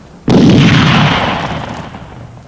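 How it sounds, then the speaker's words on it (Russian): A single loud gunshot from a 1938 Soviet war film set among Baltic sailors, a sharp crack followed by a long rolling echo that slowly fades. "Не стрелять, передать по цепи беречь патроны. Это в кого же стреляют?"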